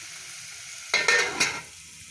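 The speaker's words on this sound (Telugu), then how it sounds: "ఈ ఆనియన్స్ అన్నీ ఒకసారి బాగా కలపాలండి" Sliced onions frying in a pan are stirred, a close sizzling, scraping burst of under a second with a couple of strokes, set against a quiet background hiss.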